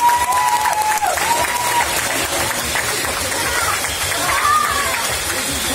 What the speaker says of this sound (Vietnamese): hãy dành một tràng pháo tay thật lớn để mừng hạnh phúc cho cặp đôi đi ạ